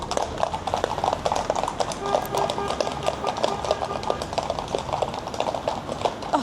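Horse hooves clip-clop steadily on a London street near Hyde Park Gardens, a brisk even rhythm of hard strikes over constant traffic and street noise.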